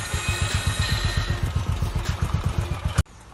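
A motorcycle engine idles with a steady, rapid thumping pulse and mechanical clatter, fairly close and loud, then cuts off abruptly near the end, leaving faint background noise.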